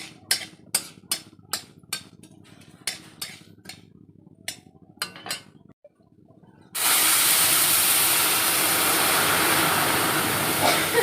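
Mustard seeds and dried chilies hit hot oil for tempering, bursting into a loud, steady hiss of sizzling that holds to the end, after a run of sharp, separate taps and clicks.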